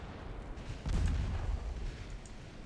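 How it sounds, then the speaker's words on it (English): A torpedo launches from a warship in the naval game Ultimate Admiral Dreadnoughts, heard as a dull, deep boom swelling over a low rumbling background and then slowly fading. "Torpedo."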